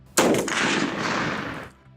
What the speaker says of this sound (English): Firing such a round from a pistol like the Contender significantly increases the recoil experienced by the shooter.